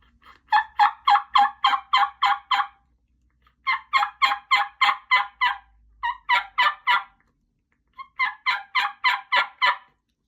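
Bursts of rapid yelping turkey calls from a handmade reed mouth call, four separate runs of sharp repeated notes with pauses between, close and clear.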